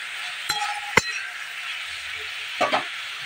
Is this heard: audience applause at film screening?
no